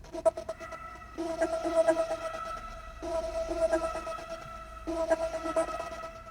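Cloud Max modulation reverb smears a soft, quiet synth-like tone into a shimmering, washing tail, with repeating swells of texture that rise and fall every couple of seconds and no voices.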